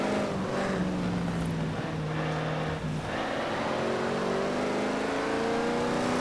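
A Nissan Titan Warrior pickup truck drives through a river in the racing game Forza Horizon 4, its engine droning steadily and loudly with rising revs under a constant wash of splashing water.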